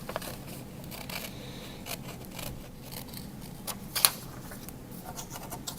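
Scissors snipping around a paper self-portrait cutout, a steady run of soft close crisp cuts and paper rustle with one sharper snip partway through, no talking.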